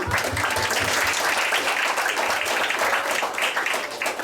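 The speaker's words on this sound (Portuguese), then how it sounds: "Vamos aplaudir ao Senhor." Sustained applause from a children's congress audience at a church gathering, dense steady clapping throughout with no speech.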